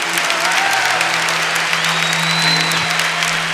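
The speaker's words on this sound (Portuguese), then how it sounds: "Merece aplauso, merece ser vivido." A church congregation applauds loudly during a sermon by Pe. Fábio de Melo, steady dense clapping with a sustained sung or hummed tone underneath.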